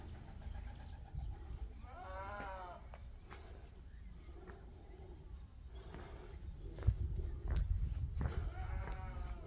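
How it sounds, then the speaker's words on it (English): A lone goat bleats twice at a monastery, a wavering cry at a moderate distance, separated by quiet rustling and low background rumble. "That's the goat."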